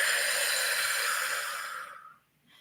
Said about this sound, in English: forcefully exhale through the mouth